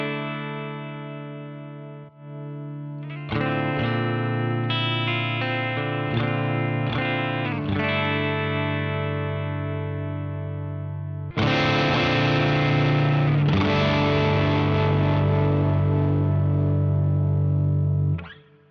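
Electric guitar with underwound pickups through a compressor ahead of the gain stage, playing a few chord strums and single notes that ring out with long sustain; a bright, slightly thick tone, loud and close with no talking.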